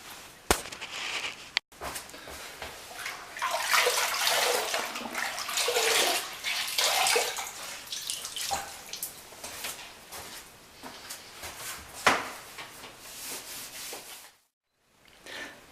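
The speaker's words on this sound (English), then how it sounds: "Now I'm going to clean the floor with a wet cloth." A wet cloth rubbing and wiping over a freshly tiled bathroom floor to clear mortar from tile tops and joints, giving continuous close scrubbing and swishing with occasional sharp knocks and a brief pause near the end.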